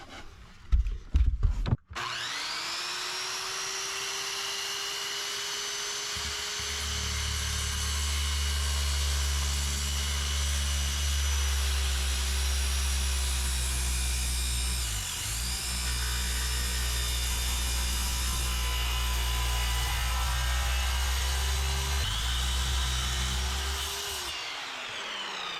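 A saw plunge-cuts through an attic wall to open a gable vent: a loud, close, steady whining roar that starts after a brief clatter and runs about twenty seconds with a slight dip midway before winding down. No talking.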